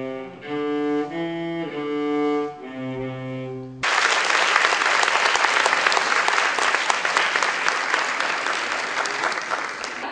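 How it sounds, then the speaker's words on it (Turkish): Loud, dense audience applause at a conservatory anniversary performance, bursting in after a few sustained music notes and continuing steadily for several seconds. "daha güçlü alkışlarınızı istiyorum"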